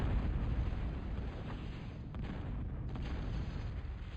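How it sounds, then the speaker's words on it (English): A plasma cannon fires in the Total Annihilation: Core Contingency strategy game, a steady rumbling barrage of deep booms and blasts merging into a continuous roar at moderate loudness. "It's a plasma cannon."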